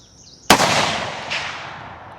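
One sharp, very loud gunshot from an 11.5-inch 5.56 rifle with a bare muzzle cracks out, then rings away in a long echoing decay outdoors.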